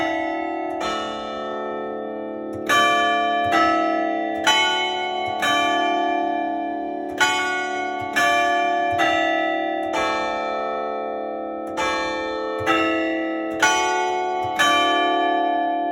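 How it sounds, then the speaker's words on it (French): Bells of a carillon ringing in a belfry, the largest bell marking the hour: a series of loud, resonant strikes at a regular pace, each leaving a long ringing decay, with no talk. "Et la plus grosse cloche pour indiquer les heures."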